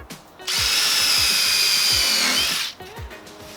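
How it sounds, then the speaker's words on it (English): A power drill whines steadily for about two seconds as it pre-drills wood for a cabinet, close and loud, with faint knocking before and after. "Re-drill this."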